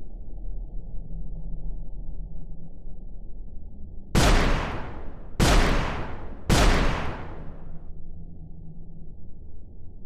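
Three sharp gunshots in a video game shooting range, evenly spaced and loud, standing out over a steady low background hum with no talking.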